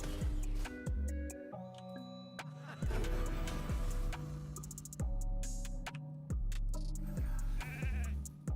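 Sheep bleating in a video game, repeated wavering cries mixed with clicks, game sound effects and busy layered noises, fairly loud and close.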